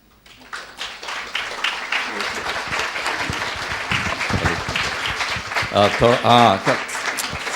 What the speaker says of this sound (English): As I come on the stage, the volume of the clap should increase.